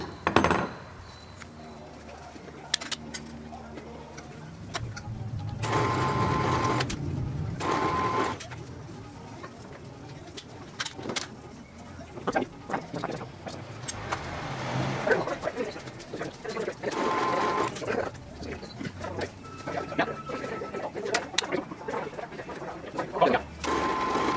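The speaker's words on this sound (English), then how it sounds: "Got the nut plates riveted onto the retainer ring for the fuel cap" Metalwork in a shop: nut plates being riveted onto a fuel tank retainer ring for the fuel cap, with bursts of rapid mechanical rattling and clicking, intermittent sharp taps and pauses at moderate, close level.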